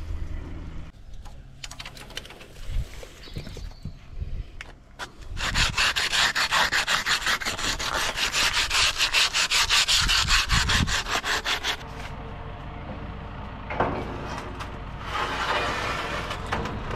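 Flaky old paint being scraped from a metal trailer, heard as a long run of loud, rapid rasping strokes with brief pauses between bursts and no talking.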